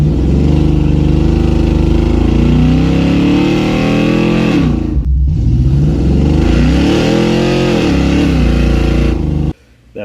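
A car running on nitrous revs hard and blows its tires, its engine roaring loud and close, climbing and falling in pitch with a short break midway and a sudden cutoff near the end.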